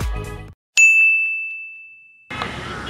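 A single bright electronic ding rings out clearly and fades slowly over about a second and a half, alone after a brief pause.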